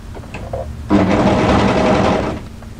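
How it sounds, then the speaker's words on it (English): An overlocker sews a few quick stitches along the waist edge of drop-crotch joggers, a loud, fast, steady mechanical whirr lasting under two seconds, with light handling clicks before it. "just overlock a few stitches to hold that into position"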